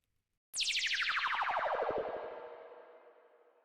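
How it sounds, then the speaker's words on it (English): A synthesized wind siren atmosphere sample with a subtle delay starts abruptly and sweeps steadily downward in pitch while rapid echo repeats pulse through it, then tails off slowly. No voices are heard. "When we listen to this sample, we can hear that it has a subtle touch of delay on it already."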